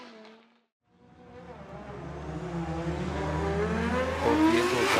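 Hokuto Matsuyama's drift car and its rival launch from the start gate at Formula Drift Japan 2024, with loud engines revving and climbing steadily in pitch after a brief pause, building to a near, roaring crescendo.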